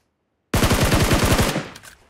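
Rapid burst of automatic gunfire in a competitive shooter video game, about a dozen close, loud shots in quick rhythm lasting around a second before trailing off, with no voices.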